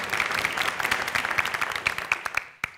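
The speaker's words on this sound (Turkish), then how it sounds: "Nihat'cığım sana kocaman alkış gönderiyoruz" Studio audience on the Turkish family quiz show Aileler Yarışıyor claps warmly for a question writer, a dense burst of hand claps that holds steady and then drops off near the end.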